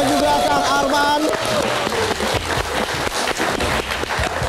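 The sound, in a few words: audience applause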